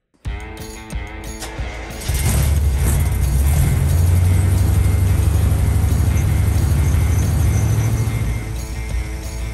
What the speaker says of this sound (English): Let's just fire up the truck and see what it does with the engine running.